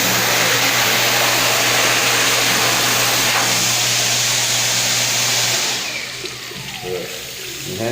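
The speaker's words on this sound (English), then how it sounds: "The Dyson Airblade V. This thing is, it's one of those hand blowers." Dyson Airblade V hand dryer blowing a loud, steady rush of air with a hum, running continuously before easing off near the end.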